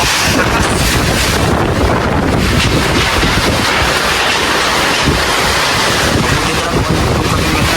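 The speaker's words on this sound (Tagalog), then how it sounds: "Grabe ang hangin." Strong typhoon wind roars and buffets the microphone without letup, a dense, loud rushing noise with no voices.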